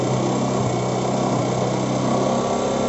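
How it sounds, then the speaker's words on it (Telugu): A motorbike fitted with a helmet-and-alcohol-sensor ignition lock runs close by, its small engine humming in a steady, continuous idle with no pauses. "ఇప్పుడు మాత్రమే బైక్ స్టార్ట్ అయింది."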